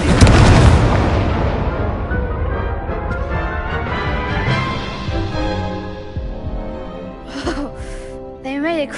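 Incendio fire spell cast in Hogwarts Legacy, a loud booming fiery burst that swells and slowly rumbles away, with a voice speaking near the end over lingering crackle.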